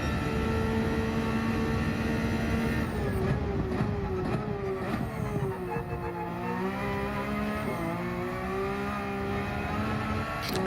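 A Porsche 992 GT3 R race car engine in Gran Turismo 7 revs loudly and continuously, its pitch climbing and dropping through gear changes, with no talk over it.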